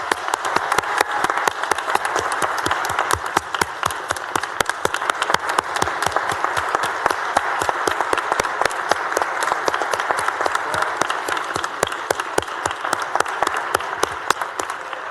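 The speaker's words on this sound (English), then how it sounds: "Let's give them all a round of applause" Audience in the Texas Senate chamber gives a long, steady round of applause for visiting educators, dense clapping sustained at an even level throughout with no talk over it.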